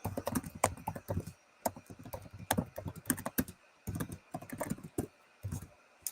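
Rapid, uneven keystrokes on a computer keyboard while writing a markdown file, close and clear, coming in bursts with short pauses between them and no voice.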